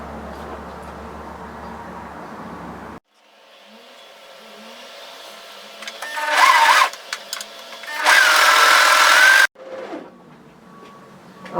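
A sewing machine stitches a single-fold binding along a fabric balaclava hood, running in two loud, whirring bursts with a brief pause between them, after quieter handling and low motor hum.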